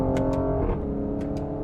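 A 2020 Mercedes AMG GLC 43 engine and exhaust pulling hard uphill, a loud, steady, droning roar from close by that holds a constant rumble throughout.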